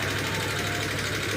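A 2018 Honda Vario 125 scooter engine runs with a rough, rattling tick, a continuous close mechanical clatter over a steady idle hum.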